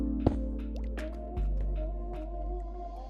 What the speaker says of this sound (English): Place water like this and cover it up.